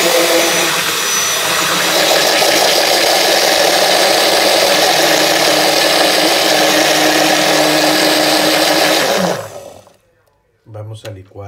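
A blender whirs loudly and steadily, blending sugar for a mandarin cake, for about nine seconds before cutting off; a short burst of talk follows.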